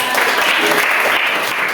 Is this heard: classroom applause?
yes